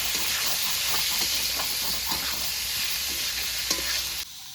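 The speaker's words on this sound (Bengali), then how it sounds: "এবার নেড়ে ছেড়ে মাংসটাকে ভালো করে কষিয়ে নেব" Chicken stirred and fried with turmeric and chilli powder in a pan makes a loud, continuous sizzle with faint stirring scrapes, cutting off abruptly at the end.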